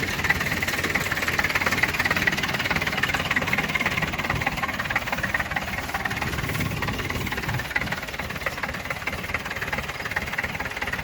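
A homemade tractor fitted with a ch 4.85/11 diesel engine runs steadily and loud close by, a constant rough, knocking idle that fills the whole stretch with no talk over it.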